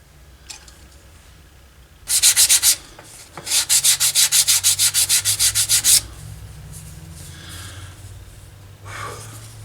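Close, loud sanding: a short burst of rubbing, then a rapid run of about a dozen rhythmic back-and-forth strokes before quieting to faint handling.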